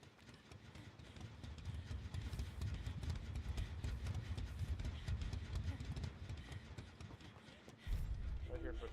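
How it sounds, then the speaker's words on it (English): Running footsteps in the Dead by Daylight video game, a steady rapid patter over a dense, noisy game soundscape that stays fairly quiet throughout. "I hear footsteps."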